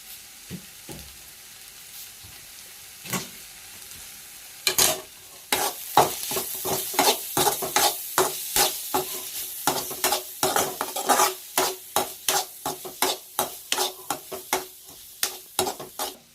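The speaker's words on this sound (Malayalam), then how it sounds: "സ്പെഷ്യൽ പൊടി ഇട്ടിട്ട് നന്നായിട്ട് ഇളക്കണം" Spice powder being stirred into crab roast in a frying pan: a run of sharp, rhythmic scraping strokes of a spoon against the pan over a soft sizzle, quiet at first and then steady and close, with no talking.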